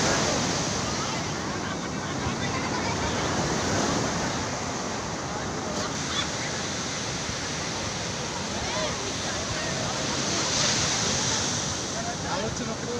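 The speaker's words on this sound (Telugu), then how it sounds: "అలలు ఎక్కువగా ఉన్నాయి." Sea waves surge continuously against the shore at Ramatheertham during a Shivaratri gathering, a dense, steady broadband roar with wind buffeting the microphone throughout.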